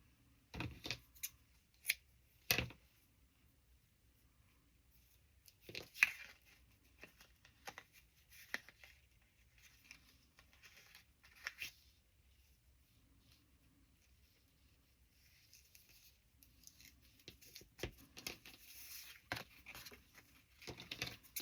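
Scissors snip paper for a journal in short, quiet bursts of crisp cuts at close range, separated by pauses with soft paper rustling.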